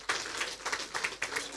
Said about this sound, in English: Now is when I will ask for another round of applause for Chief Olusegun Obasanjo.